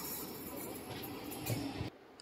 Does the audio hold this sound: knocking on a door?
no